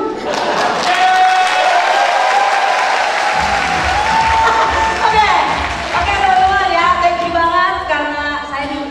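An audience at a speaker's talk breaks into loud, sustained applause with some cheering mixed in, while a voice talks over the clapping throughout.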